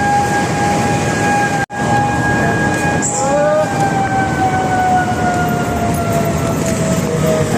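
An MRT train in Pasay, Manila gives a long, loud, steady tonal whine like a siren as it runs, with one brief dropout early on and no voices.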